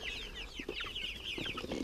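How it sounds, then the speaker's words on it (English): Faint, soft chirping and clucking from a flock of young hatched chicks in a poultry pen, several overlapping peeps in quick succession with no talking. "He says as he's walking through the chicks that he's hatched out"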